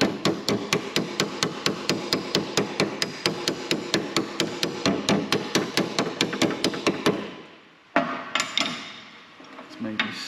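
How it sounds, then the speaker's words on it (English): A hammer strikes a Ford Transit van body panel in a fast, even run of sharp metallic blows, with a second hammer held behind as a dolly; the hammering stops briefly, then resumes with a few scattered hits. "I'll just use this hammer as a dolly behind it, but basically starting at this edge."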